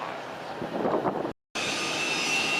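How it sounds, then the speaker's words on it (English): An autogyro gyrocopter taking off at the Sun 'n' Fun air show, a steady loud engine and rotor roar with wind buffeting, briefly cut to silence before resuming. "gyrocopter taking off"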